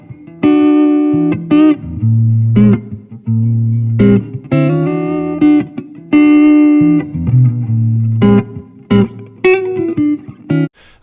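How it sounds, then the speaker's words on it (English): A guitar plays melodic phrases and chords with a heavy wash of natural echo chamber reverb mixed in at a high level, notes lingering and overlapping. "the reverb is mixed in at quite a high level"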